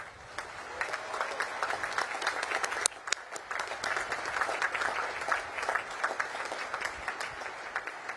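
An audience at a US Naval Academy commissioning ceremony applauds in a steady, sustained wash of clapping, heard from a distance and quite faint throughout.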